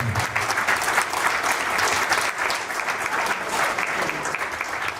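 Steady, dense applause from a large audience at a patriotic poetry recital, clapping continuously at an even level throughout with no breaks.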